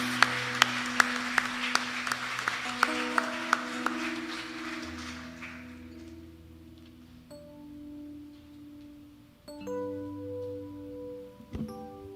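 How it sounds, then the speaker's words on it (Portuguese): Church congregation clapping during an evening worship service, a burst of sharp, steady claps over sustained keyboard music that fades out after about five seconds, leaving the music alone. "bater umas palmas de palmas ao Senhor Jesus."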